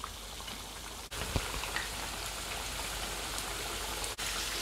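Potato pieces deep-frying in a pan over fairly high heat while preparing Vietnamese chicken curry, a steady dense crackle and sizzle that runs continuously and close, with no talking over it.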